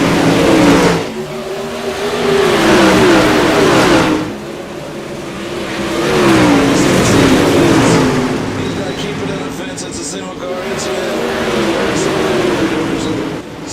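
Mod super late model race cars roar down the front straightaway of a dirt oval during a heat race, engines surging loud and close in waves as the pack passes, with an announcer talking over the noise.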